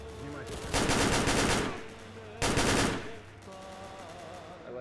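Video game gunfire comes in two loud, close bursts of rapid automatic shots, with quieter game ambience and tonal effects between and after them.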